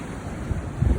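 Rough waves of the Southern Atlantic Ocean off the coast of Namibia make a steady, loud rushing wash with wind buffeting the microphone, swelling briefly near the end.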